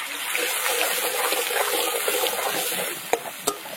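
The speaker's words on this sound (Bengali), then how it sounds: "রসুনটা হালকা একটু এরকম ভেজে নিতে হবে।" Garlic frying in hot oil for a tilapia garlic curry, a dense steady sizzle close up, with two sharp utensil taps near the end.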